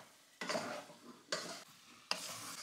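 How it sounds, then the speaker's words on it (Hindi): Prawn fried rice stirred in a pan after vinegar goes in: three scraping strokes of a spatula, each over a gentle sizzle, close and soft with brief gaps between. "इसको अच्छे से मिला देंगे"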